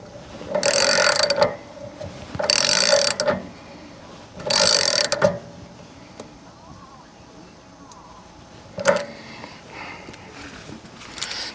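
Three long, loud bursts of a ratchet snugging a fitting on an RV water heater, each about a second of rapid clicking, followed by a shorter click later, close up.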